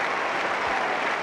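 A cricket Test crowd, Pakistan vs Australia, applauds a batsman equalling a record, a steady wash of distant clapping filling the stadium without pause.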